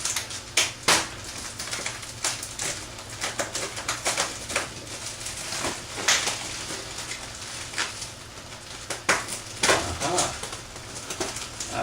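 X-Acto knife slicing through packing tape on a shipping box holding a Hickok model 532 tube tester, a run of sharp scratchy cuts and rips in irregular bursts, close up, with some bird cooing in the background.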